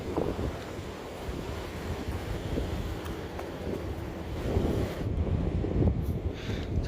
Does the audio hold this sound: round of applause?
no